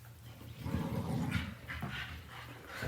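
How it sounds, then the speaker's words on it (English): Two dogs, one of them a Boxer, barking, panting and whimpering while playing, a busy stretch of close, rough yaps and huffs running steadily throughout. "So that's your two dogs making all that."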